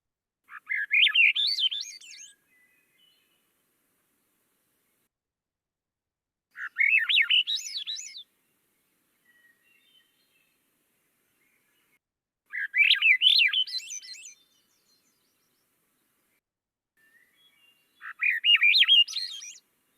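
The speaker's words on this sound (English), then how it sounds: "But the thing about Swainson's thrush that I love the most is they have an absolutely gorgeous song." Four clear phrases of Eastern-race Swainson's thrush song, each an upward-spiraling flutey whistle lasting about two seconds, repeat at roughly six-second intervals against silence, played from a recording.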